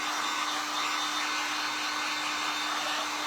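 A hair dryer blows steadily at close range, drying paint on a DIY wall decor frame, with a constant whirring hum and rushing air that does not change.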